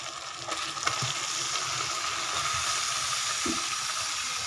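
Chicken pieces fry and get stirred into a spice masala in a pan for chicken curry, with a loud, steady sizzle and scattered scraping and clinking of the spoon.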